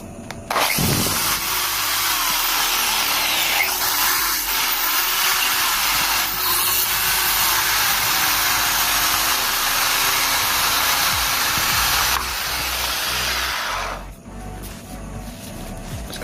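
A power drill whirs loudly and steadily for several seconds, then winds down near the end.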